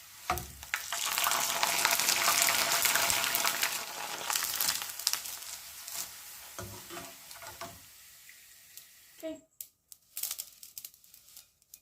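Potato noodles fry in hot oil with a loud, dense sizzle that gradually fades, ending in a few light scrapes and knocks as they are stirred and lifted out.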